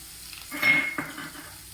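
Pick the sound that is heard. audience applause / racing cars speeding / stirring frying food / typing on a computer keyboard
stirring frying food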